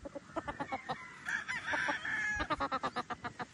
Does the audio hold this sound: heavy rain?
no